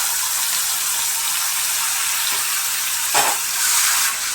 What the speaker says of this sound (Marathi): चांगलं तळू द्यायचं